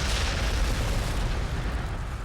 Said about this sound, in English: Just throw some frag back here.